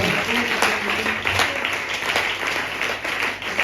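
Church congregation applauding and clapping in praise during a sermon, a steady dense wash of clapping lasting throughout with some voices mixed in.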